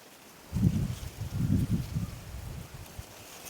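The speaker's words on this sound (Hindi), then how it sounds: "पत्ते झूम रहे हैं" Wind gusting through forest trees, stirring leaves into a soft, low rustling roar that swells in two broad waves and then fades slightly.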